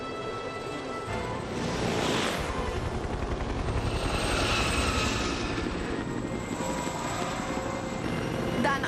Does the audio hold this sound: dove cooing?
no